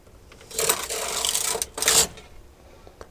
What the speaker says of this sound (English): Place the carriage back into end position so we can knit all the needles and knit across